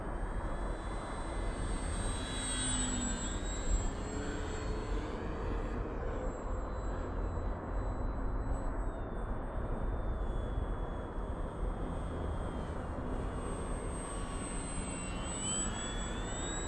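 Ranger 1220mm RC plane flying overhead and looping in wind, its electric motor a continuous high whine that rises and falls in pitch as it passes, heard over steady wind noise.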